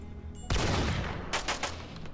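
A burst of RimWorld video game gunfire: one heavy boom followed a moment later by several rapid sharp shots, fairly loud over a low background rumble.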